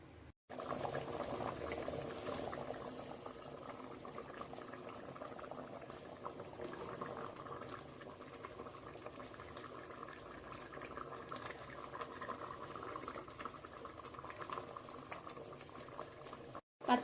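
Fish and mango curry bubbling at a steady boil in a pot, a continuous soft burble of liquid throughout without pause, quiet and close.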